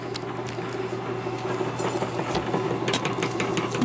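A Campbell 250 nibbler cuts sheet metal with a fast, steady buzzing chatter, close and even in tone and unbroken throughout.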